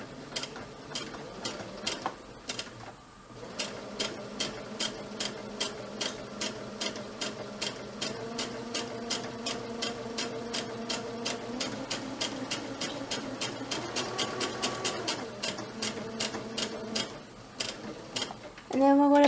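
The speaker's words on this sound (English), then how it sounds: "to our sewing machine and we're going to just sew that down real quick" A sewing machine stitches a homemade fabric mask with a steady, fast mechanical ticking rhythm that holds for most of the stretch before stopping, with a clatter at the end.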